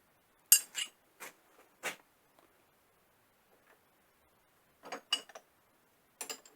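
A few sharp metallic clicks and clinks in short bursts, with quiet gaps between, as parts are tightened down on a Vevor 200 mm rotary table.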